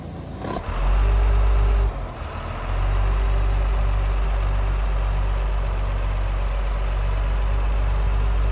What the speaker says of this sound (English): having a dump truck's pretty handy, isn't it?